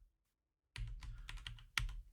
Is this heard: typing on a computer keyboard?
yes